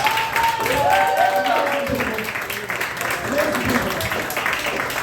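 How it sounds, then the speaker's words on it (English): Audience applause at a live comedy show, continuous clapping for several seconds, mixed with voices and tonal sounds on top. "Give them a big round of applause."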